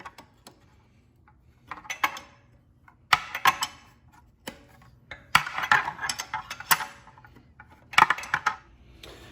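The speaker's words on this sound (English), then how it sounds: "now we can go ahead and tighten this bolt back down" A 19 mm socket ratchet tightening a bolt while a turbo and exhaust manifold go onto a Fiat 500 Abarth, giving bursts of sharp metallic clicks and taps with quiet gaps between them.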